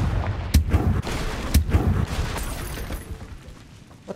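In the video game Hogwarts Legacy, the Confringo blasting spell goes off in two heavy, booming explosions about a second apart, each followed by rumbling debris that fades away.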